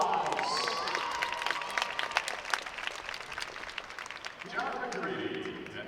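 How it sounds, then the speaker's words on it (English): An audience at a trampoline competition claps and cheers in a sustained wash of applause, with a voice carrying over the crowd noise. "Give these guys a big round of applause."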